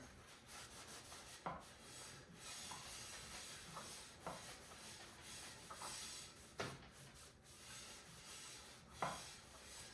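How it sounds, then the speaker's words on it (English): A towel soaked in brake cleaner rubs across the rear brake rotor of a Janus Halcyon 250 motorcycle, making quiet close scrubbing strokes with a few sharper swipes and no voices. "we're going to take brake cleaner and a clean towel, and we're going to clean the rotor"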